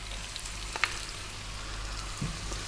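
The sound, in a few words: eggplant frying in pan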